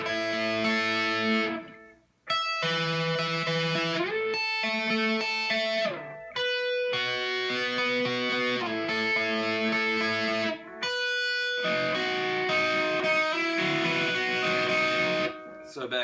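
An electric guitar with distortion plays the part slowly, ringing chords in separate chunks with short gaps and a sustained high note near the end, loud and close.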